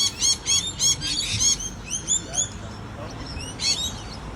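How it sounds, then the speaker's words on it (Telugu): Sparrows chirp in an Australian park during a morning walk, with bright bursts of tweets repeating every half second or so and then scattering. Quieter calls continue beneath a steady outdoor background. "పార్క్‌లో పిచ్చుకల సౌండ్ మాత్రం భలే వినిపిస్తున్నాయి"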